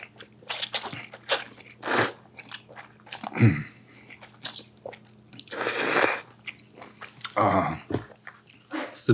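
Close, loud chewing and crunchy bites while eating Korean-Chinese jjamppong noodle soup at a mukbang table, in repeated separate mouthfuls with short pauses and no talk.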